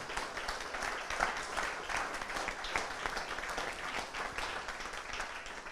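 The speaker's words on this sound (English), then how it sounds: "So we can give a round of applause for them to their generous support." An audience at a Toronto Centre all-candidates meeting claps in a steady, sustained round of applause, dense and fairly close, with no voices over it.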